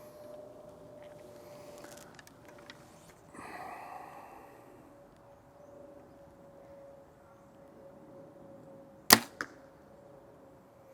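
An arrow shot from a compound bow with a three-pin sight strikes a target at 20 yards during sighting in, a single sharp thwack with a brief rattle after it, standing out against a quiet room with a steady hum.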